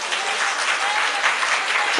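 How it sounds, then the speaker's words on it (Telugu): A church congregation claps in praise of God, a dense, steady wash of applause from many hands filling the room without pause. "చప్పట్లు కొట్టి దేవుని స్తుతించండి."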